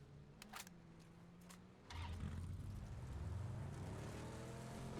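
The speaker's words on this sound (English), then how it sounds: "They will be hearing the roar of those cars." Vehicles rumbling in PUBG during an esports scrim, a steady low engine roar that swells after a quieter start with a few faint clicks, continuing loud and close to the end.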